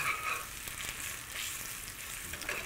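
Onions frying in a pan and being stirred, giving a steady close sizzle with soft scraping textures and no talk.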